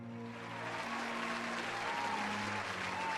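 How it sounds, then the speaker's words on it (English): Steady applause for 8th grade graduates at a school graduation ceremony, a continuous wash of clapping from a crowd lasting the whole few seconds, moderately faint. "Please join me in giving our graduates a big applause."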